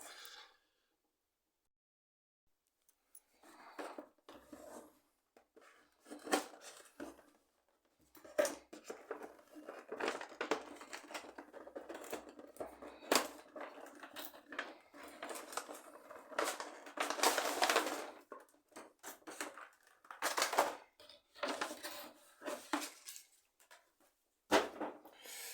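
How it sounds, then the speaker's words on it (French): Plastic packaging and cardboard rustle, tear and crinkle in bursts as a Transformers Sentinel Prime figure with its weapons and accessories is unboxed, close and fairly quiet with short pauses, after a near-silent start. "Donc on part pour le déballage."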